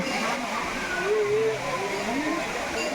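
Muktai waterfall in Chimur taluka pours in a steady broad rush of falling water, constant and fairly loud, with a person talking over it throughout.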